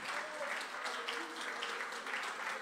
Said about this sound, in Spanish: si quiere aplaudir